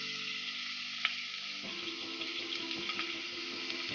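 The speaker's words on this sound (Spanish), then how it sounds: "Ponemos en la olla un poquito de aceite y vamos a sofreír en primer lugar la cebolla." Onion sizzles as it fries in oil in a pot, a soft continuous crackle with a few small clinks and stirring sounds, close but fairly quiet.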